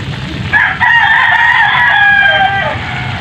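A rooster crows loudly and close by in a long drawn-out call, with chickens clucking around it and a low background murmur beneath.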